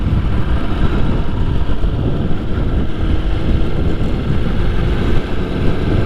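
A motorcycle pulls away in first gear as a beginner releases the clutch, its engine a steady low rumble buried under heavy, continuous wind buffeting on the microphone.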